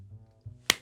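A single sharp clap made with two hands rings out briefly and close after a low hum.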